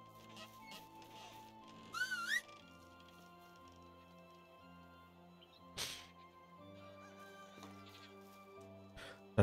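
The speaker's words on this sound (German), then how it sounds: "Da trabt der Esel ganz langsam zu demjenigen, der gepfiffen hat." In the medieval life-sim game Medieval Dynasty, a short wavy whistle calls a donkey; it rises once over quiet, sustained background tones, with a few soft thuds and clicks later on.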